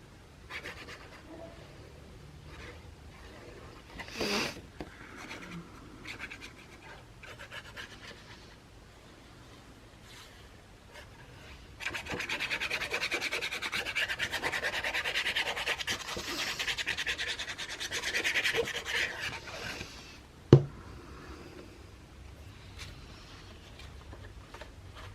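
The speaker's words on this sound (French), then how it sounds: "Et je colle le papier." Paper being rubbed and pressed down by hand to glue it into a handmade album, a close, steady dry rubbing and scratching that grows louder and denser midway, with a sharp tap near the end.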